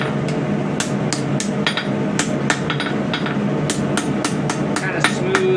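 A hammer strikes a small seax knife blade on the horn of an anvil during forging, over a dozen sharp metallic blows in an uneven rhythm, close and ringing over a low background hum.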